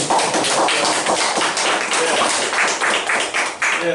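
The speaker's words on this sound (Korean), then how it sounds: "우리 다 박수로" Audience applause at a lecture, loud close hand clapping from a room full of people, dense and steady for several seconds.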